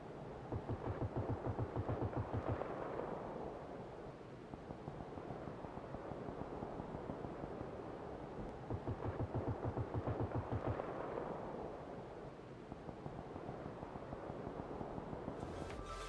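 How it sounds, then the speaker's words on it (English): Distant G36C rifle fire in a video game, heard from 650 meters away as faint, muffled bursts of rapid shots with a long low rumble, about three bursts spread across a quiet stretch. "At 650 meters away from the shooter,"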